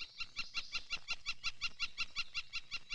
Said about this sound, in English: And a purple finch.